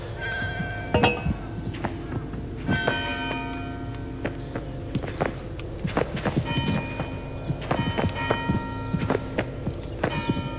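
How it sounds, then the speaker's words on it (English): A bell rings in the video game Human Fall Flat, giving several resonant, ringing strikes that overlap as they decay. The strikes sound at moderate loudness over faint background noise. "Ring the bell!"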